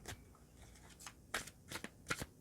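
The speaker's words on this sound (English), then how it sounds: "let's start shuffling your cards" Tarot cards are shuffled by hand in a series of close, crisp riffling bursts, each a quick papery flutter with brief pauses between them.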